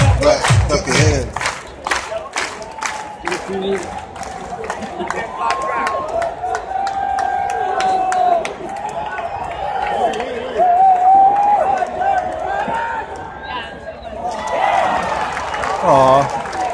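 Baseball stadium crowd at a World Series Game 3 in rhythmic unison clapping, quick sharp claps over steady cheering and crowd noise, fading into a broader roar as announcers and nearby fans talk.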